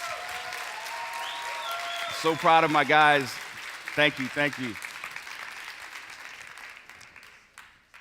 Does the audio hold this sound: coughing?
no